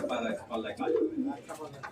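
Soft, low cooing of tippler pigeons rolls along beneath a person talking nearby, steady for a couple of seconds.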